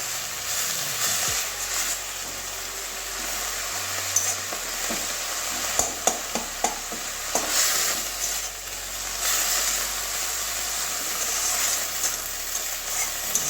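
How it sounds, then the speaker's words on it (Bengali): Chickpea greens frying in a pan, giving a steady close sizzle with a few sharp clatters of a spoon stirring against the pan in the middle, no voices. "দু তিন মিনিট এরকম ভালো করে শাকটাকে ভেজে নেব কাঁচা গন্ধটা যাওয়া পর্যন্ত"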